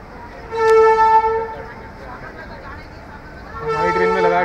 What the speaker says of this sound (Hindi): दो मिनट की होल्ड के बाद डिपार्चर स्टार्ट हो गया हमारा मेरठ सिटी जंक्शन से।